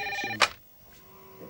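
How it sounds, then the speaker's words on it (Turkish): A telephone rings indoors with a short electronic tone burst, then a sharp click and quiet room tone. "Uy, telefon çalıyor."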